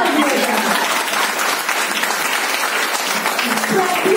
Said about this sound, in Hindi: ताली मार दी